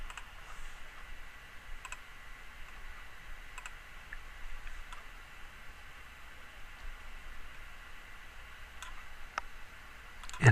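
Several faint, scattered computer mouse clicks at a desk, quick isolated ticks spread through a quiet hum of background noise, the last one slightly louder.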